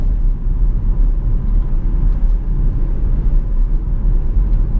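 Inside a 2010 Jaguar XF 5.0 V8 S driven fast, a deep steady engine and road rumble fills the cabin, loud and continuous with no voices.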